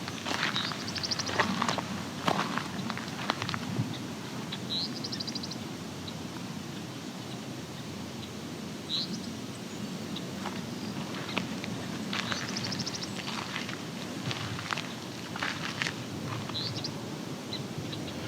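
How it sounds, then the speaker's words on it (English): Song sparrows giving short, sharp tink calls in grassy farmland: scattered single high notes at irregular intervals over a soft, continuous outdoor hiss, fairly distant and with no talking. "There's also little tink calls you might be hearing. Those are song sparrows."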